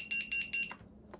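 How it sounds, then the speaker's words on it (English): FPV drone finder buzzer on a switch, giving three quick, loud, shrill beeps close by, evenly spaced, followed by a short click. "So I set up the beeper to this switch and it should still work if I trigger it."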